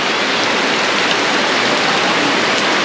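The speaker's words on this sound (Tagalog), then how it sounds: "Kaumpisa pa lang yan ng ulan." Heavy rain pours steadily at the start of a downpour, with floodwater already rising in the street; a dense, continuous roar of water fills the air throughout, loud and close, with no voices.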